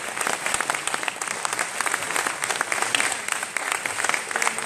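Audience applause at an Italian conference event greets Mario as he arrives, dense steady clapping across a room with scattered brighter claps, continuous throughout.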